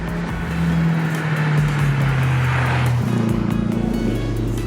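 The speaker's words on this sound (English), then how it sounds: "is a lot of noise from the engine and the exhaust" A Scion tC engine drones with a deep exhaust note while driving, the pitch holding then dropping and climbing again as it shifts under load.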